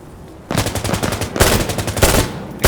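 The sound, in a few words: FAMAS rifle firing rapidly in video game Insurgency Sandstorm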